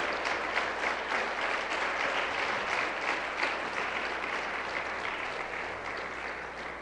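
A church congregation claps together in praise, a dense, even wash of many hands that holds steady before easing slightly toward the end.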